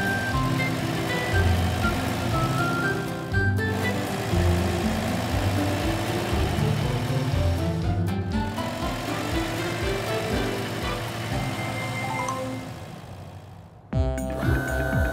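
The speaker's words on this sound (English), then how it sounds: "The street sweeper is starting to clean the road." A street sweeper in a children's cartoon about helper cars runs its engine with a steady, drawn-out mechanical drone and layered tonal hum, sounding continuously before a brief break and sudden change near the end.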